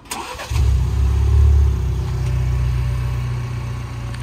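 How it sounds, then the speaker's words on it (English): A Ford Bronco engine cranks briefly and catches, settling into a loud, steady low idle right after a short click and starter whir; no talking. "So she just turned on the car"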